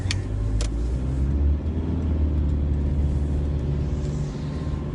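A car rolls along a road with a steady low engine rumble and tire noise close by, continuous throughout, with a couple of brief clicks near the start.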